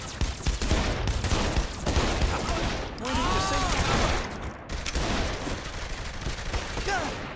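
Sustained rapid gunfire in the video game Saints Row 3, dense overlapping bursts running almost the whole time with brief dips and a few whining tonal effects layered in, with some voice audible beneath.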